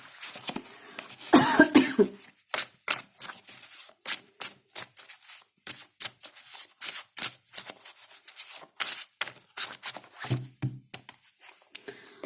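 Tarot cards being shuffled by hand, a long run of quick crisp riffling snaps and flicks, close by, with a brief rougher burst near the start.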